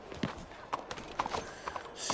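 Horse hooves clip-clop at a slow walk on a street in Red Dead Redemption 2, a few spaced, fairly soft hoof strikes close by with faint background ambience.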